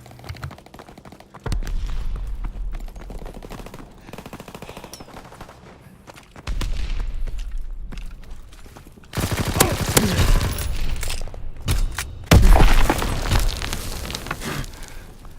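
Sustained gunfire from Call of Duty WWII, automatic bursts and shots layered together, growing louder and denser in the second half with a heavy blast near the end, no talking.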